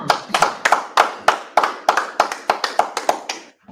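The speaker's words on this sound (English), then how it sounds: "Clap it up." A group claps hands in unison at a street brotherhood gathering, about a dozen sharp, rhythmic claps in a steady beat, close and loud, ending abruptly into quiet.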